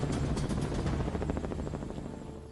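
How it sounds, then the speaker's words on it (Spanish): A Blackhawk UH-60 military helicopter lifts off loaded with 14 armed forces members, its rotor beating in a steady rapid thump over a dense broadband engine roar that stays loud and close, easing slightly toward the end. "el helicóptero despega cargado con 14 miembros de las Fuerzas Armadas."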